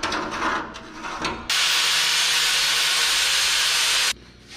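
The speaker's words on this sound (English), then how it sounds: "I'm having to grind down the sides just slightly so that they will fit into the track." A grinder shaping the sides of 3-inch-long bolts so they fit a track: some light clatter, then a loud, steady abrasive hiss for about two and a half seconds that stops abruptly.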